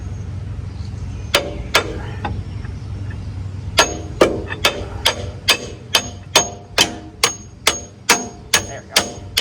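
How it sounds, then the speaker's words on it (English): A steel pin is hammered into a hydraulic cylinder during a rebuild: a few scattered metallic blows, then a steady run of about a dozen sharp, ringing hits in even rhythm, close and loud over a low background hum. "Looks like we're gonna have to hammer it some."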